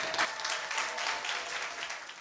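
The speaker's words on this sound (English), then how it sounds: "will you give all the hand claps and snaps that you can to Annie" An audience claps and snaps for a speaker, a steady patter of many hands at moderate volume, with a short burst of louder clapping at the end.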